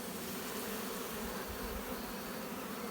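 A dense, steady hum of honeybees crawls over waxed beeswax foundation in a hive frame, buzzing continuously and faintly at close range, without voices.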